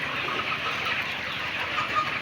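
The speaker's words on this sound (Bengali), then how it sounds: "এগুলো হচ্ছে আমাদের 3 মাসের মুরগি।" Three-month-old Fayoumi chickens on a farm in Sylhet make soft, overlapping clucks against a constant low background hum, with the flock sounding close and continuous.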